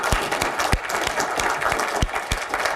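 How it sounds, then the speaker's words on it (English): A smaller crowd at a solar sales event claps for itself, individual sharp hand claps standing out in a loose, uneven patter of moderate applause. "So give yourselves a round of applause."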